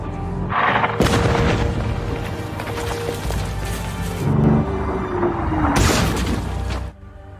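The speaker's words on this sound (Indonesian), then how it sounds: "mereka kembali ke markas sambil dihujani bom dari tentara Jerman" Bombs bursting around a tank in a World War II film battle against German troops: loud, dense booms and rumbling blasts follow one another over a continuous roar, with sharp cracking impacts near the start and end.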